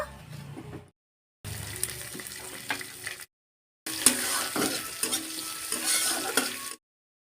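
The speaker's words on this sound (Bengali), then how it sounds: "জিরে আর কাঁচা লঙ্কাটাকে ভালো করে ভাজা ভাজা করে নেব।" Whole cumin seeds and chopped green chillies fry in mustard oil in a kadai, giving a steady, close sizzle with stirring scrapes, broken by a few short silent gaps.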